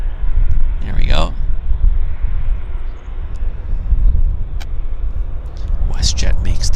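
A WestJet plane turning at Vancouver Airport gives a loud, steady roar of engine and wind noise throughout, with occasional brief voices nearby.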